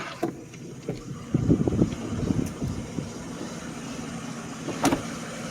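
A 1995 Mercedes S600 V12 coupe idles while warming up after a cold start, a low, uneven rumble, a few soft revs and clicks rising briefly before settling back to a steady idle.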